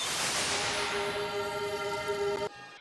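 Spell-casting layer for the RPG game Rivalia: a bright pink-noise rush blended with a sustained flute-like tone that swells and holds, then cuts off abruptly into a short fading tail.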